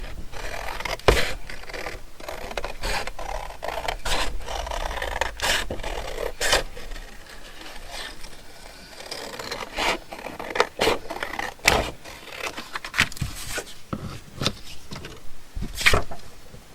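Scissors cutting an egg shape out of paper for a spring ephemera craft, a close run of crisp snips and rasping paper scrapes with short pauses between cuts, no talking.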